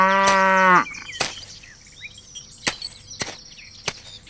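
A cow lets out one long, loud moo on a farm, followed by several sharp knocks and chopping thuds against a quiet rural background.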